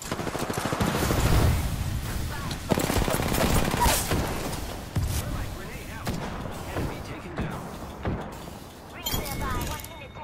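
Apex Legends gunfire rattles in repeated bursts of rapid shots, close and loud at first, then thinning into scattered cracks while a voice talks over the fighting.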